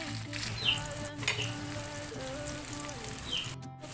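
Chopped onions and tomatoes sizzle and fry steadily in a pan for a home-cooked aloo keema, with a continuous crackle close up and no talking.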